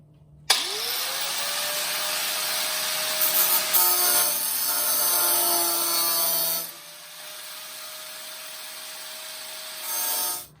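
A power tool cuts through a metal support rail on an MG Midget during a rebuild, starting abruptly with a steady high whining grind that drops in load partway, then pauses and briefly resumes near the end.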